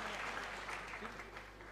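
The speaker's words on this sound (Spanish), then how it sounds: "Así que un fuerte aplauso para Frank Yelfe" Applause from a conference audience greeting a speaker at a social engineering talk, a steady dense patter of clapping filling the short stretch at moderate, somewhat distant level.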